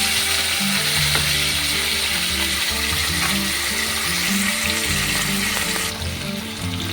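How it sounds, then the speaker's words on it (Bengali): Sarpunti fish fry in a pan with a dense, steady sizzle and crackle that runs close and loud without a break, easing off slightly near the end. "তো এই মাছ ভাজাগুলো ততক্ষণ মাছ ভাজা হতে থাকুক"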